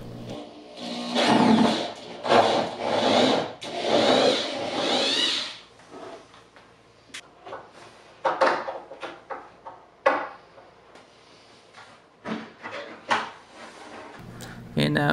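An old wooden TV cabinet door is worked loose with a screwdriver, giving scraping, rubbing and knocking sounds, followed by sparser clicks and taps. A person talks in the background.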